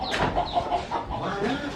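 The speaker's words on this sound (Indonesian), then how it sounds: "ayam teh kabur" Chickens cluck in short excited bursts close by, a restless flurry of fowl calls with some background noise and faint voices.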